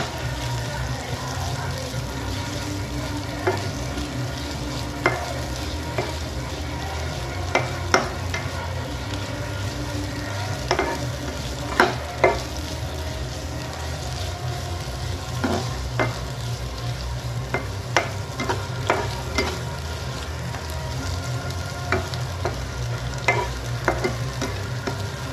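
Chopped onions with a pinch of salt sizzle steadily in an oiled pan while a spoon stirs them, its scrapes and taps recurring irregularly over the continuous frying hiss.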